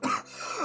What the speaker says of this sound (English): I got to take the coughing out of the equation